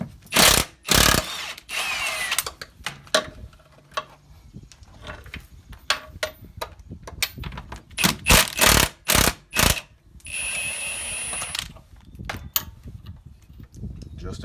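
Power tool spinning out the 17 mm bolts holding a steering rack on a Nissan 240SX, loud rapid bursts of impact rattling separated by pauses and lighter clicks, close by.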